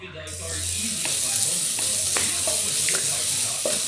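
Meat and onions fry in a pot for pilau, a steady close sizzle with periodic stirring scrapes across the pan and no voices.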